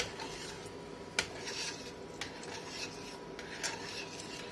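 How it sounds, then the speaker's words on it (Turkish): Oven rice pudding mixture stirred in a pot, faint soft scraping with occasional light clinks of the utensil against the pot, no voices. "karıştırıyoruz."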